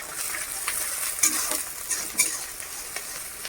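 Chopped onions and minced garlic fry in a pan with a bright, continuous sizzle, broken by several sharp clicks and scrapes from stirring.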